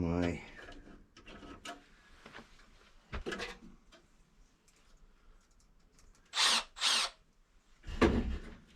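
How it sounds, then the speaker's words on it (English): A power drill drives inducer screws into a Carrier 58ZAV096 furnace during a heat exchanger replacement, with short whirring bursts near the end after brief voice and clicks of handling. "get my inducer screws put in"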